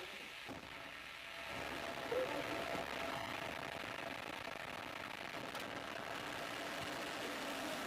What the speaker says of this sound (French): Top, allumage moteur Vulcain.